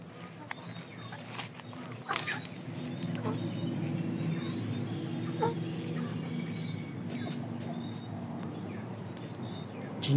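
Large Shamo and Indio Gigante chickens cluck steadily through a busy farmyard background, with a few sharper calls standing out; a person speaks faintly at times.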